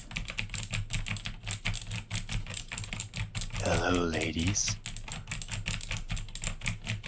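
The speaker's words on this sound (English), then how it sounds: "unless you're typing" Rapid, steady typing on a computer keyboard, close and continuous throughout, with a brief spoken line from a person partway through.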